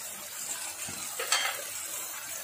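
Onion, ginger and garlic frying with chilli, turmeric, cumin and coriander powders for a beef liver bhuna, a steady sizzle with a brief stirring scrape midway, close and moderately loud, no voices.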